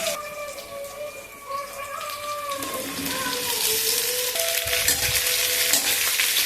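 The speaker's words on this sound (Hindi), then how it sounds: "भिंडी को डाल के थोड़ा देर भूनना है जब तक कि थोड़ा सा लाल नहीं हो जाता है भिंडी" Okra fries with onion and chilies in a kadhai, producing a continuous crackling sizzle that builds louder in the second half, with brief tonal sounds in the background and no speech.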